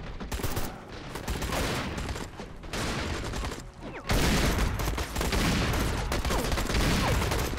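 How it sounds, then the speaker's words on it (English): Gunfire from the video game Call to Arms, including sniper fire, comes as dense, loud bursts of crackling shots that run through the whole stretch and grow heavier partway in, with no talk over it. "We're taking sniper fire, should I say."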